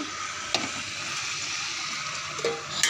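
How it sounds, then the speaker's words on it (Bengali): Meat fried in a pan and stirred, with a steady loud sizzle throughout and a couple of brief scraping strokes of the spoon. "মাংসটা একটুখানি ভালো করে কষিয়ে নেব"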